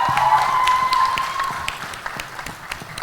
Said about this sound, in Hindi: जोरदार तालियों के साथ स्वागत करिए उत्कर्ष शर्मा।